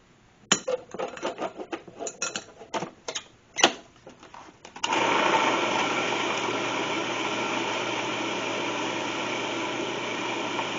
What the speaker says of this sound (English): let the food processor do the work